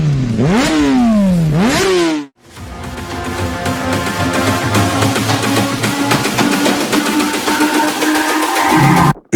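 A Mondial Vulture 125 motorcycle engine revving up and down in two quick bursts, cutting out briefly, then settling into a loud, rattly, steady idle close by.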